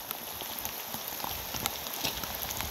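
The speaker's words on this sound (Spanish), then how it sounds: "si está lloviendo muy fuerte aquí en Aculeo" Heavy rain pours at Laguna Aculeo, Chile, a dense steady patter of drops striking surfaces, with scattered louder splats, close and continuous, no voices.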